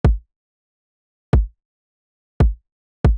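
Four isolated electronic kick drum hits from a 140 BPM Ableton bass-music project, each a punchy low thump with a quick decay, spaced unevenly with silence between them and no other sound.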